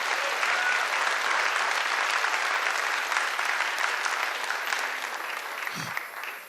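Audience applause for award presenters at a high school senior awards ceremony, a long, steady roar of many hands clapping that holds evenly before tapering off near the end.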